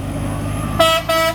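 A Pangeran bus entering Terminal Baraya Solok sounds its new telolet horn with two short, bright musical blasts in quick succession. A low engine idle hums underneath.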